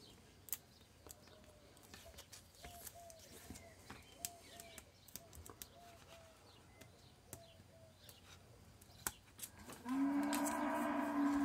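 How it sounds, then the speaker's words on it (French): A cow moos in the distance several times in a row, with soft cooing and small clicks around it, followed by a louder, nearer hum at the end. "Il y a une vache qui se fait entendre."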